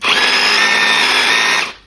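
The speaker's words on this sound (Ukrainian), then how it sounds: "Ось, зараз продемонструю чисте свердління. Ось. Свердління з ударом." Grand cordless rotary hammer drilling in hammer mode, part of a cordless tool kit: a loud, steady, buzzing whine that runs continuously for under two seconds, then cuts off sharply.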